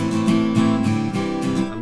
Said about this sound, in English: when I play the F, instead of a little 4-string F, we'll play a 5-string F.